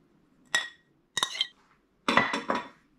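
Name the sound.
mixing egg yolk into fried rice in a pan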